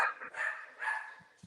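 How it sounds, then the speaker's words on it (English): A dog barks in a couple of strained, yelping bursts with whimpery tones, near and moderately loud, alone without speech. "Yeah, dog's upset."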